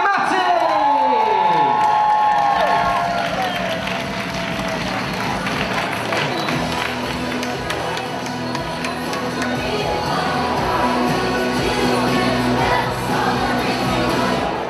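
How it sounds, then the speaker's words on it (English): Loud crowd of children cheering, whooping and clapping for contestants at a blind-date style game, with high shouts rising at the start and a continuous noisy roar throughout. "I want to give it a round of applause for Lily and Matty"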